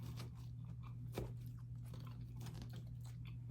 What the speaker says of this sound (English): croutons give it a crunch